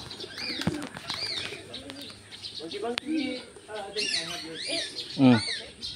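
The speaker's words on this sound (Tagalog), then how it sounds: "Sarap makipaglaro sa kalapati." Pigeons coo at a butterfly sanctuary in Bohol, Philippines, their soft throaty calls repeating near and far amid chirps from other birds, while people talk nearby.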